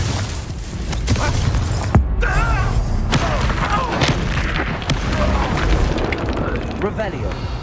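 Confringo fire spells explode in the Hogwarts Legacy video game, loud booming blasts and crackling bursts over a dense, busy combat soundscape with voices mixed in.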